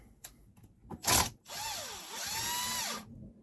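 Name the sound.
unscrewing screws from a Mercury binnacle remote control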